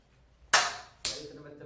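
Students in a classroom clap hands twice as part of a clapping game. The two sharp, loud claps are about half a second apart, and each rings briefly before decaying.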